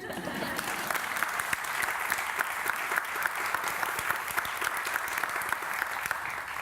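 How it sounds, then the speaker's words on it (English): A conference audience breaks into loud, sustained applause for chef José Andrés, dense rapid clapping from a large crowd that holds steady throughout, close and full, with faint voices mixed in. "And yes, you can clap, because we're going to do it."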